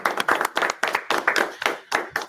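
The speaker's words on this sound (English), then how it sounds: "big applause to both the speakers" A few people in a meetup audience clap for the speakers, giving a short, sparse, evenly spaced series of distinct close hand claps with no one talking.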